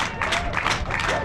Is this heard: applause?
yes